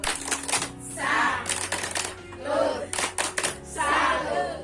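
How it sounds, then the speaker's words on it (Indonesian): A group of women perform the tepuk salut clapping routine at a community session, with sharp bursts of claps in a patterned rhythm while their voices chant along between the beats. "Mari ibu-ibu kita beri tepuk salut."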